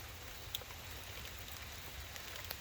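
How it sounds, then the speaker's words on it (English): Light rain falls steadily onto the engine bay of a 2006 Mercedes-Benz E350 4matic with an M272 engine, a faint even patter with a few sharper drops, no voices. "It's raining all over the engine."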